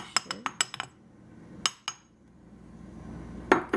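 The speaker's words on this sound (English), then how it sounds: "you're going to mix it until it's well blended" A spoon clinks against a bowl while ginger, nutmeg and salt are mixed into pumpkin roll batter: a quick run of sharp taps, then sparse clinks with soft stirring between them.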